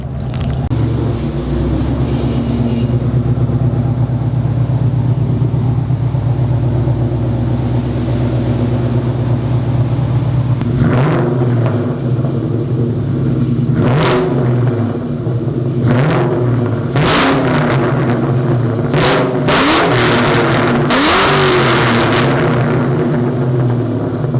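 A Ford SVT Terminator Cobra engine with headers installed idles with a deep burbling exhaust note, then revs sharply several times, each blip rising to a raspy roar before dropping back.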